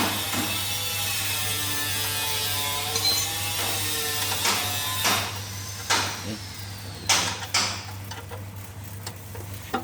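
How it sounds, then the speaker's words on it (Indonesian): Oil drain bolt being threaded back into a car engine after an oil change: a steady mechanical hum with a few ratcheting clicks and knocks toward the end, close up. "baut oli kita pasang dulu"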